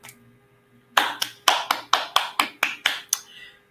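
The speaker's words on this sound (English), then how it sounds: "I would really encourage everyone to give them a round of applause" Scattered applause from an audience at an International Women's Day event in Abuja, a run of sharp separate claps close by, fairly loud, fading out after a few seconds, with no talking.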